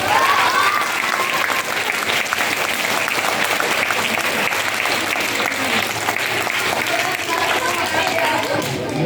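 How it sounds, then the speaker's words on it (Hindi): A school audience applauds loudly and steadily for Quaid-e-Azam Muhammad Ali Jinnah, dense clapping filling the whole stretch with some voices mixed in. "जोर से ताली बजाइए"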